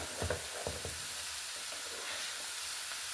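Cauliflower pieces sizzle steadily in a crowded skillet, a constant hissing fry with a few soft scraping knocks from stirring near the start, close up and with no talking.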